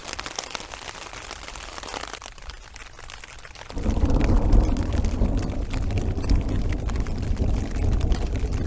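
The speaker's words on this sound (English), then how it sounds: "there's just a loud crack of thunder above us there" Thunder cracks overhead during a storm at a wild camp in the Peak District, UK: a deep, loud rumble surges in midway and keeps rolling over steady wind and rain noise.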